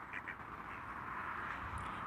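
Domestic ducks quack repeatedly in short, close calls, a few bright bursts standing out over a steady outdoor background with no talking.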